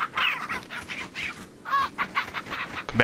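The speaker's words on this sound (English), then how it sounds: "Chicken. Don't run away from me." A chicken in the Resident Evil 4 VR video game clucking and squawking in a series of short, agitated bursts, fairly close and loud, with no talking over it.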